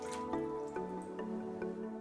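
Water for bread dough drips and splashes into a mixing bowl in a few quick, liquid plops, close and quiet, with a faint tonal hum beneath.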